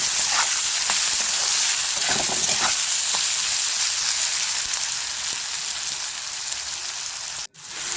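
Potato poha frying in a pan while being stirred, a steady dense sizzle with scraping stir strokes, close and continuous, cutting out briefly near the end.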